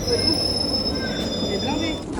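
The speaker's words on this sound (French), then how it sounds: "Notre premier métro londonien." A London Underground train pulls into a station, a loud rumbling roar with high squealing wheel whine, and voices murmuring underneath.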